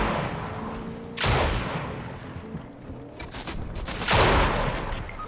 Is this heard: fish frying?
no